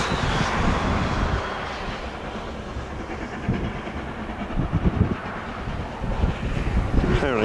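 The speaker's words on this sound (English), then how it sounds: "Not every day you get to see a steam train." A steam train rumbles past outdoors in Scotland with steady clattering and rushing noise, buffeted by wind on the microphone, and a few louder chugging bursts near the end.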